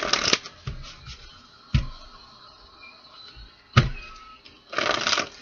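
A deck of Arcanum Tarot cards is shuffled close by, with bursts of riffling at the start and end and scattered sharp card slaps and clicks between them.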